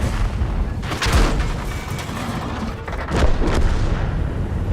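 Heavy booming shots from an enemy tank in the World of Tanks video game, two or three loud blasts over a constant dense rumble of battle noise, with no voices.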